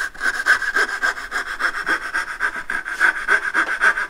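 A hand saw cuts dovetails in wood with steady back-and-forth strokes, each rasping pass close and loud in an even rhythm with no talking.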